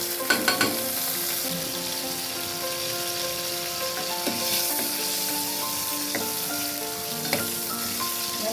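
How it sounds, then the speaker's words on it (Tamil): Steady hissing sizzle of cumin and green chili frying in hot oil, with a few sharp pops and clinks of a utensil stirring the pan. "பாத்திரம் வச்சு எண்ணெய் ஊற்றி வச்சு ஜீரகமும் பச்சை மிளகாய்"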